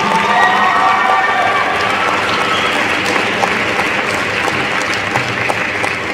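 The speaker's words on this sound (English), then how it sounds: "So let's give a round of applause for Chief Nelson." An audience at an NJROTC pass-in-review ceremony applauds a drill team coach with loud, dense, sustained clapping and some cheering and crowd voices, holding steady from start to finish.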